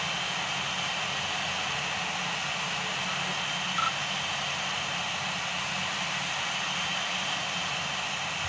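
MiG-19 jet climbing after takeoff in the Gunship III flight simulator, a loud, steady broadband jet engine roar with an even hiss that holds constant throughout.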